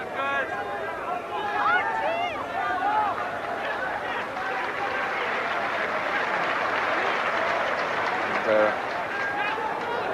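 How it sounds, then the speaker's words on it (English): Crowd applause and murmur at a 1983 Wales versus Brazil football match: a steady, broad wash of clapping and stadium noise runs throughout beneath a commentator's continuous talk. "reaction in terms of the applause for the ball being retrieved by the Brazilian"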